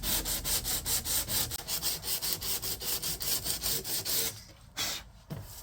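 Hand sanding a rust spot on the body of a 2018 Ford Escape: steady, rhythmic back-and-forth abrasive strokes, close and fairly loud, which stop abruptly near the end and leave a brief quiet gap.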